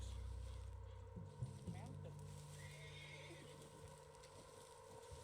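A spooked horse in the video game Red Dead Redemption II gives a clear whinny, with hoof clip-clops and faint voices talking around it.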